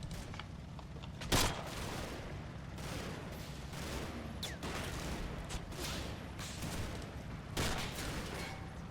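Video game battle with scattered distant gunfire and 60mm mortar rounds, several sharp bursts and booms popping over a steady rumbling background, fairly quiet overall.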